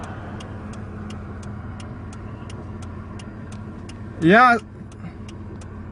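A car drives along the highway toward Jebel, with a steady low road rumble and regular faint ticking throughout, and a short loud tonal sound cutting in near the end.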